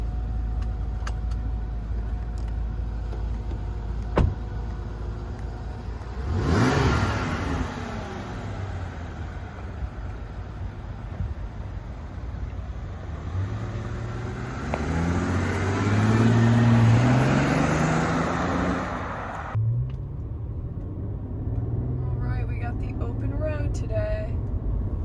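A 2006 Bentley Continental Flying Spur with a 6.0-litre W12 driving on the road: a steady engine hum and tyre roar inside the cabin, swelling twice as the engine revs up, then settling to a quieter cruise.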